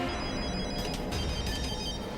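A telephone rings steadily and loudly inside a room in a Hindi horror drama scene, and no one speaks over the ring.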